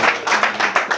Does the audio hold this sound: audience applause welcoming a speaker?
yes